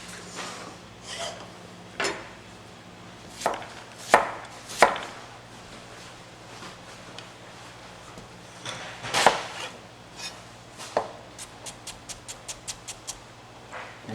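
A knife chops onion on a cutting board during a sauce-making class, with scattered sharp taps and a quick closing run of rapid, evenly spaced chops, moderately near over a faint background hum.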